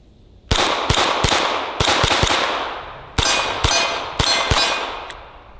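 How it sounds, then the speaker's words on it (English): A CZ Scorpion fires cheap Winchester white box hollow point rounds in a run of about ten sharp, loud shots, grouped in irregular pairs and singles with ringing echo between them. "So we're gonna try some cheap old Winchester white box hollow points and the CZ Scorpion."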